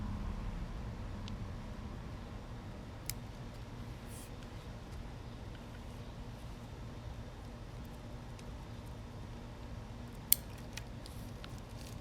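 New scissors snipping pomegranate tree branches during pruning outdoors, a few sharp, scattered cuts spread far apart over a steady low background hiss.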